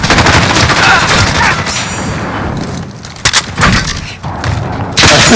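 A cruise missile strike in Call of Duty Modern Warfare (2019) sets off dense, loud rolling explosions and booming blasts mixed with gunfire, a continuous heavy barrage with sharp bursts near the end.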